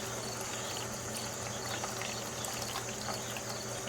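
Water is poured into the bottom tray of a potted tricolor stromanthe plant, a soft continuous trickle heard close and quiet over faint background hiss.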